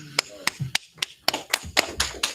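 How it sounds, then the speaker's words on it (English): A handful of hands clapping in a loose, uneven rhythm, about nine sharp claps spread over a couple of seconds, with some faint voices underneath, as at the start of a livestreamed gathering of the Israelite School of Universal Practical Knowledge. "clap it up."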